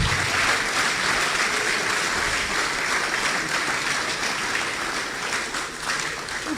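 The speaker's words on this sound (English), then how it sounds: "So I want you to give our speaker one big round of applause." Steady audience applause after a lecture speaker, a dense, continuous wash of many hands clapping that fills the room, loud and sustained throughout with no talk.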